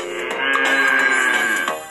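Cartoon cow in the NxtApp 4 Kids iPad game gives one long, loud, drawn-out moo that fills the whole moment.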